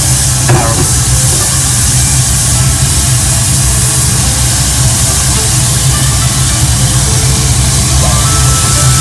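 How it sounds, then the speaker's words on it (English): Burdock root stir frying in sesame oil, a loud, steady, close sizzle and hiss of the hot pan that continues without a break. "First thing you stir fry is burdock root."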